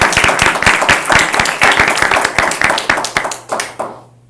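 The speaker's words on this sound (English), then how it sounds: "you girls deserve a round of applause" An audience claps for a group of girls honored for a texting-and-driving awareness project, with sharp, close handclaps forming a lively patter that gradually fades to silence.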